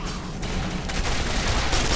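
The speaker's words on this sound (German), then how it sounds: "Ah, wieso schießen die auf mich und nicht auf den?" Enemy gunfire from Quake 4, a continuous dense barrage of shots and blasts filling the whole stretch at steady loudness, with no talking over it.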